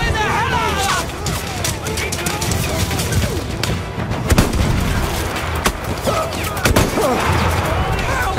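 Dense, rapid gunfire with booming shots and bursts from Battlefield 1 on Xbox One, continuous and loud throughout, with Spanish-speaking voices talking over the action.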